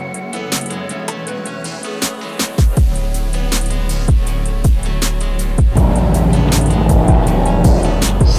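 A car runs an autocross course. The engine swells loud and close as it accelerates, then holds a sustained roar with repeated revving changes as it pushes through the course.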